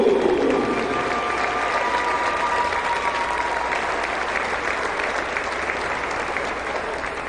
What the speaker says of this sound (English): Ladies and gentlemen, a big round of applause for Brad Sneary, Ethan Hussey, and Kevin Blo